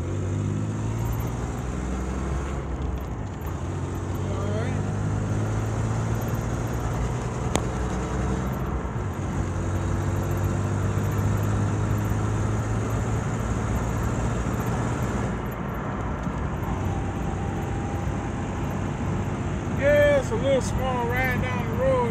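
Honda Passport SUV cruising along back roads around Toronto, Canada: a steady in-cabin engine drone and road rumble throughout, with tire and wind noise and a few faint bumps.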